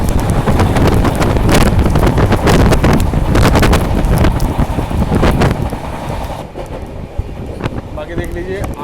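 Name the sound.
New Delhi Howrah Duronto Express train running in stormy rain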